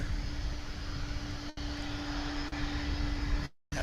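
An airplane landing smoothly on the runway at DFW International Airport, heard as a steady, fairly faint engine roar and rush held at an even level throughout, with a steady hum and a brief dropout near the end.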